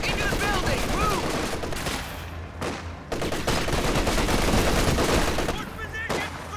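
Heavy machine gun fire rattles in continuous bursts in Company of Heroes 2's Ardennes Assault campaign, loud and close, with shouted soldier commands mixed over the shooting.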